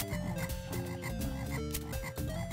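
Frog croaking in The Lion King Sega video game, a string of repeated, rhythmic croaks over layered game music, fairly faint and with no talking.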